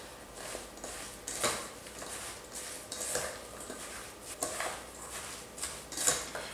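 Sliced apples being tossed with cinnamon and nutmeg in a bowl, heard as faint, soft scraping and rustling strokes that repeat in a loose rhythm, with a few light clinks near the end.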